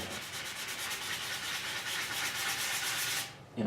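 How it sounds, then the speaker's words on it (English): Steady back-and-forth rubbing of sandpaper on a metal motorcycle fuel tank from a GS550, a continuous rhythmic rasp that stops abruptly near the end. "we started this little sanding exercise in this area"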